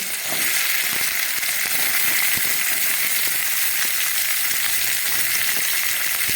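Sliced onion and potato frying in hot oil in a pan, making a steady, loud, close sizzle with crackling pops that runs on without a break.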